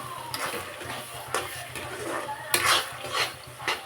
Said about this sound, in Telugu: ఇది సిమ్లో పెట్టి బాగా ఫ్రై చేసుకోండి